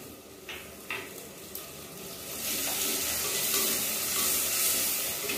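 Chopped tomatoes land among sizzling onions in a pan for a fish kulambu, and after a few soft knocks a broad hissing sizzle swells up and holds steady.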